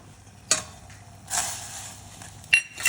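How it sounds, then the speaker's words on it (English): A whisk stirs blackcurrant jam into a reduced stock and red wine sauce in a pan. Quiet scraping is broken by a few sharp metallic clinks against the pan. "whisk in our blackcurrant jam"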